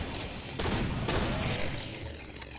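Flechette secondary fire from a pump shotgun in Doom: Project Brutality, heard as a couple of loud, sharp blasts with a ringing, bouncing tail as the projectiles scatter.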